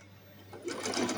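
A sewing machine stitches a doll garment seam, starting quietly and then running up into a fast, close mechanical whir.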